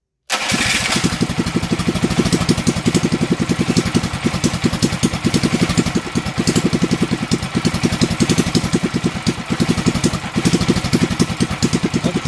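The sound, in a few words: Predator 212 mini bike engine idling with racing flywheel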